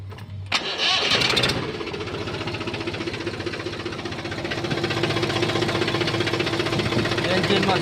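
An old 39-horsepower diesel tractor with battery self-start cranks briefly, then catches and settles into a loud, close, steadily knocking idle that continues to the end.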